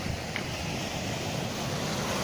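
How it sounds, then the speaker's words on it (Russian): Steady, broadband rush of winter sea surf washing in, small waves alternating with sets of five to seven powerful ones, continuous and fairly loud with wind noise mixed through, no distinct individual wave crashes standing out. "То они маленькие накатывают, то потом идут 5-7 волн таких мощных, сильных."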